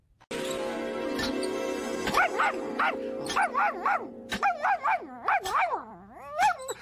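A cartoon dog in a Futurama scene gives a run of short yips and whimpering barks over a steady hum, the calls rising and falling in quick succession.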